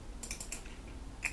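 Computer keyboard keys tapped in a few quick soft clicks, close and fairly quiet, a Control C and Control V shortcut pair with a final click after a pause.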